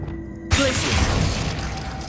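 Casting the Glacius ice spell in Hogwarts Legacy opens with a sudden loud crack and burst, then a sustained bright, crackling freeze after a brief near-silence.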